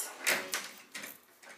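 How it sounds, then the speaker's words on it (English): A hotel bathroom sliding door rolls along its track in a few soft, brief scrapes and knocks, close and fairly quiet, with no talk. "It's actually a sliding door. You can slide it."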